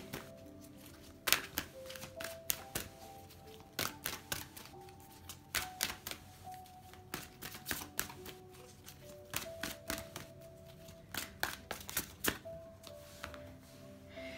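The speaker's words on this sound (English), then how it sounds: "Let's have a shuffle, shall we?" Tarot cards being shuffled close up, soft irregular taps and snapping riffles repeating quietly with no talking.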